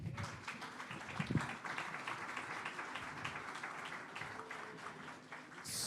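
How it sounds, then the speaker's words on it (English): Applause from an audience at an entrepreneur speaker series session on marketing, a steady wash of clapping filling the room for several seconds at moderate loudness. "can we give him another round of applause?"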